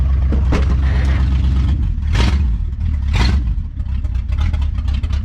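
A 1972 Dodge Challenger engine rumbles steadily at idle, running rich with exhaust leaking through the floor, its deep throb occasionally swelling with brief rough bursts, close and loud.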